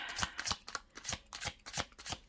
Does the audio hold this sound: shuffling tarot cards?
yes